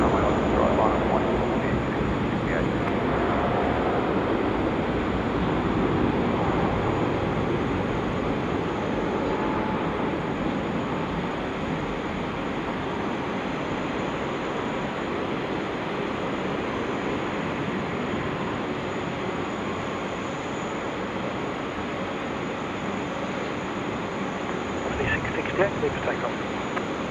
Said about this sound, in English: Jetstar A320 on the roll.